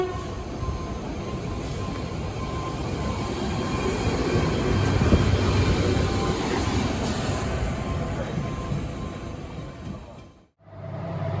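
An MBTA commuter rail train pulling a purple heritage locomotive rumbles past up close, a loud, steady roar of wheels and cars that swells midway and then cuts off abruptly near the end.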